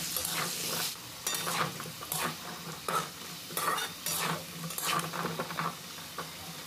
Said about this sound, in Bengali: দিয়ে ভালো করে নাড়াচাড়া করে আলুটাকে ভেজে নিতে হবে।